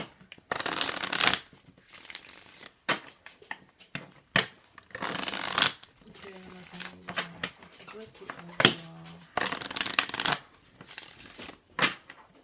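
A chakra card deck being shuffled, giving several bursts of papery riffling and flicking at close range, with short pauses between them and a few soft knocks, with no talking over it.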